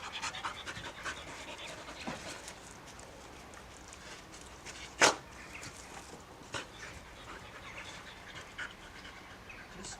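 A puppy pants rapidly and steadily at close range, with soft rhythmic breaths throughout and one sharp louder burst midway.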